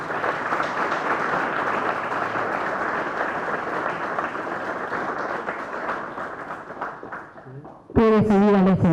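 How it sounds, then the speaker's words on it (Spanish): Sustained audience applause fills a book presentation hall, steady and dense for about eight seconds, then cuts off as a voice starts speaking over the room. "Lo recibimos con un fuerte aplauso,"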